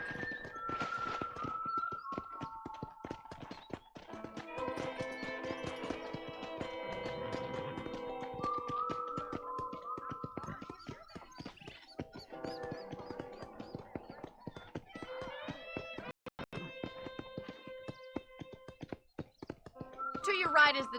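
Horse hooves clip-clop steadily in Red Dead Redemption, a rhythmic walking pattern of taps running under recurring voiced talk throughout.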